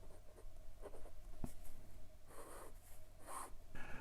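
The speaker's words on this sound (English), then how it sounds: "Let's check the wetness. It's decently wet, very wet for a very fine nib. The nib is not scratchy," An Artimber Octagon fountain pen with a number 5 Schmidt extra fine steel nib writes on paper up close, making short scratchy strokes in separate bursts with small pauses between them.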